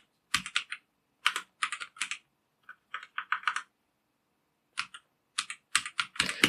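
Keyboard keys tapped in quick irregular bursts, clusters of crisp clicks separated by short pauses, close and fairly quiet, with no voices.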